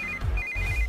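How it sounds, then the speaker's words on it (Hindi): An electronic phone ringtone trills in a steady repeating high tone over a low background hum, moderately loud and close, in a Hindi-dubbed South Indian film scene. "इस वक्त दीदी का फोन।"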